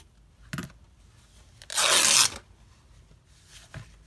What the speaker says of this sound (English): let's go ahead and cut another strip of fabric